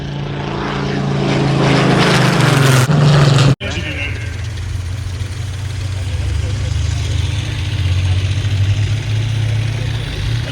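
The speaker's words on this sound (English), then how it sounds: "Not going to interrupt the murder engine on the Spitfire." A Spitfire's propeller aircraft engine roars loudly as it passes nearby, the pitch dropping as it goes by, then a steady drone continues at a distance.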